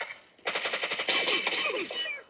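Rapid automatic gunfire from a BGMI battle royale match, a loud burst of evenly spaced shots that rattles on steadily for about two seconds, with no talk over it.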